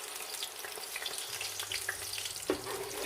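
Ground onions fry in hot oil with fenugreek seeds for Punjabi kadhi pakora, giving a steady close sizzle with faint stirring and a brief clatter near the end.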